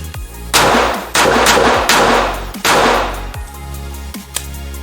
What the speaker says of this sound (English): So let's just keep drawing and shooting, right?